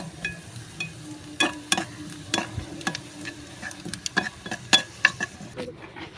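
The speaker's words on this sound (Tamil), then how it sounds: "வெங்காயம் நல்லா ப்ரௌன் கலரில் லைட்டாக வர மாதிரி வதக்கணும்." Onions are stirred and sautéed in a pan, with soft sizzling under repeated sharp scrapes and taps of the spoon against the pan at an irregular rhythm, close and clear, with no talk.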